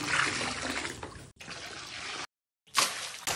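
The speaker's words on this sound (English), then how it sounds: "I add chlorine walking around the pool." Liquid chlorine pours and splashes into a green outdoor pool in a steady close stream, broken by a brief pause before the pour resumes.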